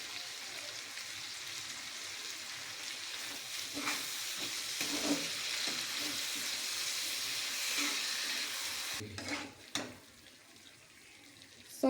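Soy chunks and vegetables stirring in a pan with tomato sauce, chili sauce, soy sauce and Kashmiri chili sizzle steadily up close, with soft scraping strokes of the spatula and a brief clatter near the end.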